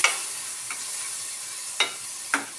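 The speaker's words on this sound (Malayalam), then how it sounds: "ടൊമാറ്റോ പേസ്റ്റ് ആക്കിയിട്ടില്ലേ അതും ഇതിനകത്തേക്ക് ഇടാവേ" Tomato paste frying in a pan for paneer masala, heard as a steady close sizzle with a few sharp scrapes of stirring spread across it, and no voices.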